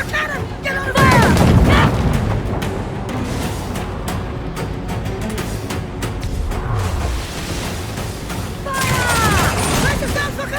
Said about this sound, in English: A cannon!